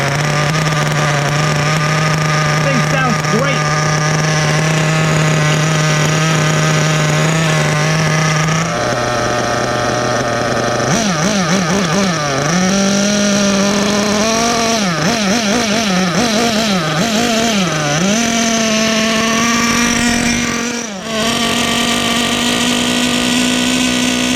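A Kyosho USA-1 nitro RC truck's small high-pitched engine idles loudly on its first run, then revs up and down repeatedly in wavering bursts, a buzzy whine rising and falling close by.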